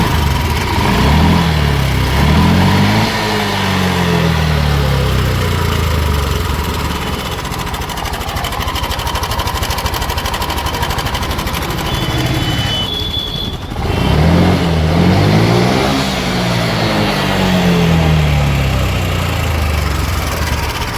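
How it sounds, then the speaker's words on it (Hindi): A Honda Activa 6G scooter engine is kick-started and runs loudly at idle, with a few rising revs, a brief dip, then steady rough chugging close by; the engine makes a bad noise. "तो किक से स्टार्ट करके दिखाता हूँ इसका साउंड"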